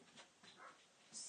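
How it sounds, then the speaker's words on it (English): A small dog in another room gives a few faint, brief yips and whimpers with some panting, distant and quiet in an indoor space. "I have a little dog that keeps barking in the background back there."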